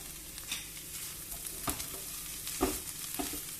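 A sweet corn filling with green chilies and coriander is stirred in a hot pan, giving a continuous soft sizzle punctuated by irregular scraping and tapping strokes of the spoon, close and moderately loud.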